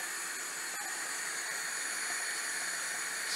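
Water heating toward a boil gives off a steady, broad hiss that holds at an even level throughout, fairly close, with no voices.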